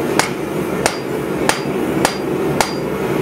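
Five sharp hammer blows ring out at a steady, even pace on hot steel, each with a bright metallic ping, while blacksmith Alec Steele forges a floral coat rack in the workshop.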